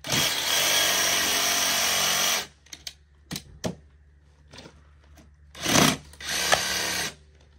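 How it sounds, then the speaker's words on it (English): A power saw cuts wooden stair stringers for log home steps, starting with a long loud continuous burst and then giving way to several short sharp bursts with pauses between them. "getting close to finishing cutting the stringers out. I got one more to cut."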